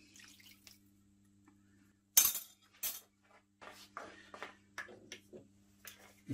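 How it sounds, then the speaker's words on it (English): A spoon stirs and clinks in a bowl while a mixture for Jamaican beef patties dissolves, giving sharp scattered taps and scrapes over a low steady hum. "And just stir it up until it's all dissolved."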